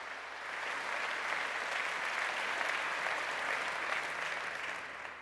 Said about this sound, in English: I think this requires an applause for Nina Meyer.